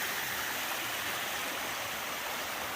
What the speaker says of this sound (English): Comes down the mountain. Nice little cascades through here.